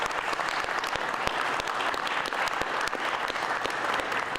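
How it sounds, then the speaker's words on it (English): A room of county staff and audience members at a government announcement break into sustained, even clapping, a dense wash of many hands heard up close with no talking over it. "Would you give them a round of applause?"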